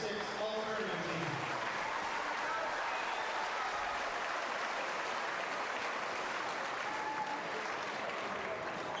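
Sustained applause from a gym crowd at a high school basketball district tournament honoring the all-tournament team, a dense, even wash of clapping lasting about nine seconds with a voice briefly heard at the start.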